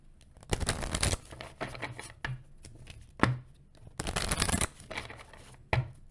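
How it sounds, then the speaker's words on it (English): Repeated close riffling and slapping of tarot cards being shuffled in several quick bursts with short pauses, no talking. "I feel like I need another shuffle."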